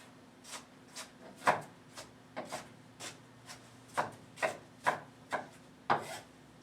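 Onions are chopped with a knife on a board for barbecue pork chops, with about a dozen crisp, separate knife strokes and taps coming in an uneven rhythm, close and fairly quiet with no talking.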